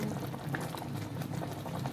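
Chicken feet boil steadily in a cooking pot with water, giving a continuous bubbling and churning that stays even and close throughout.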